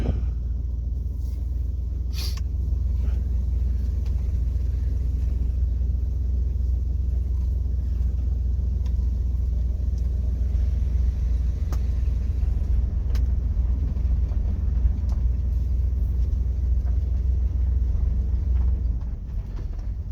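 Interior road noise from a car being driven after brake repair work: a steady low rumble of engine and tires continuing throughout, with a few faint clicks and knocks and no talking.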